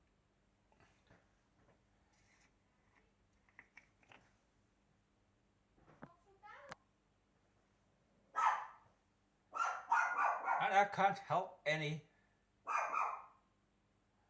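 A dog barks in short bursts, mostly in the second half, fairly close in an otherwise quiet room, with a few faint clicks and brief speech earlier.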